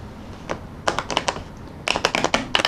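An old deck of tarot cards is riffled in short bursts, rapid crisp clicks that flutter off the thumb, close by, with brief pauses between the runs.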